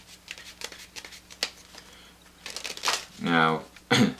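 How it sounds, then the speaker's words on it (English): A deck of playing cards being shuffled during a card magic routine, with several short papery riffles and flicks, followed by someone speaking close by. "we're going to just shuffle those in like so."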